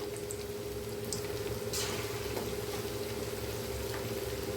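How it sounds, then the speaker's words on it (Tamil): Pieces of chicken 65 fry in hot oil, spaced apart in the pan, giving a steady, close bubbling sizzle with a constant low hum beneath and scattered small pops. "பொரித்து எடுக்கணும். பாருங்கள், இப்படி தள்ளி தள்ளி இப்படி போட்டு எடுத்துக்கிடணும்."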